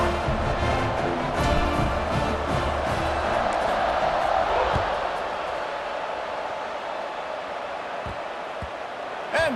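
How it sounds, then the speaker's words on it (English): Stadium crowd in a college football video game after a Colorado score, a loud continuous roar and murmur of spectators that slowly eases off, heard alone without talk. "this crowd is buzzing after that last score"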